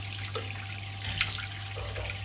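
Water runs steadily from open bath and basin taps in a house while the supply drains down, making a continuous soft splashing hiss with a faint low hum underneath and no talking.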